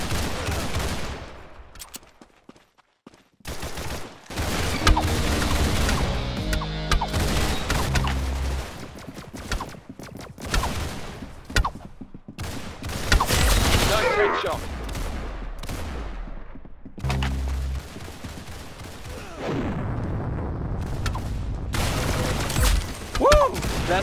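Rapid bursts of automatic gunfire and single shots from a Roblox Arsenal match come in dense volleys broken by short gaps, loud and close, with voices talking over parts of the action.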